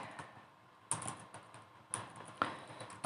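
Typing on a computer keyboard while entering data into a planning application, with sparse soft keystrokes and a few sharper clicks spread irregularly over a few seconds, close and fairly quiet.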